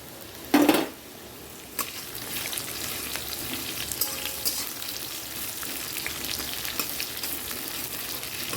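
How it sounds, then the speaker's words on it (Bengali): Steady sizzle of potatoes and onions frying in a pan, with a sharp clatter near the start and occasional light scrapes of stirring throughout. "আলুটা ভাজা হয়ে গেছে এবার মধ্যে পেঁয়াজটা দিয়ে দেবো"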